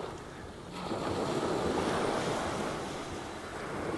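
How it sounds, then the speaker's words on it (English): Ocean waves crash and wash onto the shore at a seascape, a steady loud roar of surf swelling and easing, mixed with wind buffeting the microphone, with no voices. "It could be the waves crashing."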